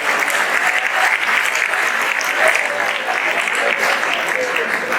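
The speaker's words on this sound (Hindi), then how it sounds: "तालियां जोर जानी चाहिए।" A crowd at a Hindi humorous poetry recital claps vigorously and continuously. The applause stays dense and loud throughout, with faint murmuring beneath it.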